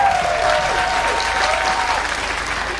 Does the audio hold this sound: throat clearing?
no